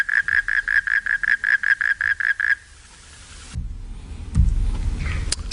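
A toad from the high-altitude Kashmir and Ladakh region, around 4000-5000 metres, calls at nightfall with a fast series of about a dozen evenly spaced, loud pulsed notes that stop abruptly, followed by quieter rustling and low thumps.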